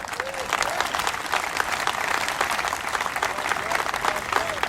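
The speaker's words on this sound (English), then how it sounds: "Why don't you give yourselves a big round of applause?" A large crowd of patriots at an evening gathering applauds themselves, a sustained dense wash of clapping with occasional shouts and voices underneath.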